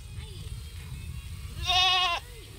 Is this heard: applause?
no